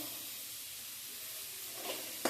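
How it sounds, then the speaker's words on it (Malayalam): Carrots sautéing in a pan for a spicy pasta, giving a quiet, steady sizzle that ends with one sharp clink near the end. "പിന്നെ ക്യാരറ്റ് ഇട്ട് ചെറുതായിട്ട് മൂപ്പിക്കാം."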